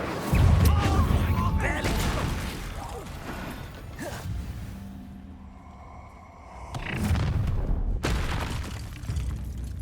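Fiery spell effects in the video game Hogwarts Legacy: loud whooshing bursts and crackling impacts rise and fall twice over several seconds, mixed with game mechanisms and brief voices.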